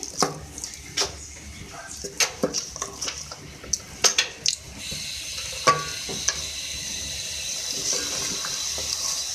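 Water poured into a pan of beef keema with potatoes and peas, giving a sizzling, bubbling hiss with scattered clinks and scrapes of stirring, close and fairly loud, with no talk.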